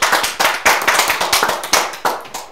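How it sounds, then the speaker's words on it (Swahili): A few people clapping hands together in a loose rhythm, close and loud, about a dozen distinct claps over a couple of seconds with no talk. "tahora makofi tahora sawa"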